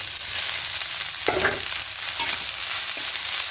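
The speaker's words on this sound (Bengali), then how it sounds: "এবার এখানে দিয়ে দেব রাইসটা খুব ভালো করে মিশিয়ে নেব বাকি রাইসটা দিয়ে দেবো" Cooked rice is stirred into cumin frying in oil in a pan for vegetarian jeera rice, giving a steady close sizzle with scraping stirring strokes and no voices.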